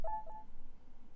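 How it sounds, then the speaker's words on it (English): A phone notification gives one short, faint tonal ding at the very start, then a low steady hum continues. "Oh, my phone made a ding!"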